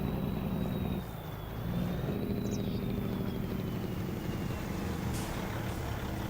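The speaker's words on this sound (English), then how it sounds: "See, look, there's the traffic." Road traffic rolling past in Farming Simulator 25, a steady low engine rumble of vehicles with a faint rising and falling whine and a brief dip in level, no voices.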